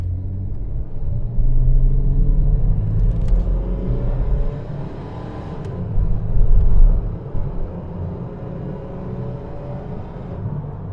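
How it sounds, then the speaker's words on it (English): A Ford Granada Mk2 2.8 Ghia drives along, its engine a loud, steady low rumble with shifting revs and a surge near the middle, heard from close by with no talk. "In this video, I'm thrilled to be driving a Mk2 Granada Ghia."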